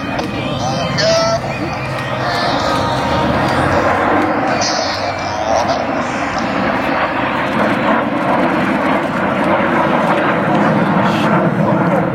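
Jet aircraft of a synchronized aerobatic display team roar past at an air show, loud and sustained for the whole stretch with broadband engine noise and crowd ambience.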